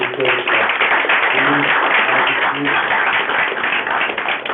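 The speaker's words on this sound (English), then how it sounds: "I think he deserves applause" Dense audience applause at a knowledge quiz event in India, steady and fairly loud clapping from a crowd with voices mixed in.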